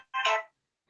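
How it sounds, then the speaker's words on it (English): A mobile phone ringtone sounds once in a short, bright melodic burst lasting about a third of a second, close and clear, followed by near silence during a live online debate. "Sorry, my phone just rang."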